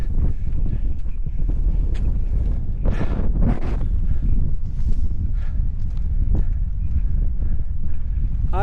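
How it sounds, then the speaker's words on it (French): Strong wind blowing outdoors during a 58 km race, a loud continuous rushing roar buffeting the microphone, with gusts surging and fading and no speech. "le vent me flingue"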